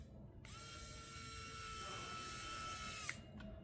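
A small magnetized screwdriver driving screws back into a cell phone, giving a close, faint, steady mechanical ratcheting whir that runs for about three seconds and ends with a small click.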